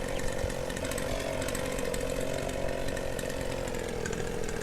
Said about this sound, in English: it still sounds like the weed trimmer